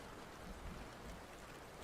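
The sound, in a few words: morning rain falling outside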